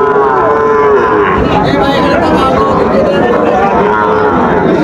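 Sahiwal cattle at a busy livestock market give a long, loud, close moo with rising and falling tone, faint crowd murmur underneath.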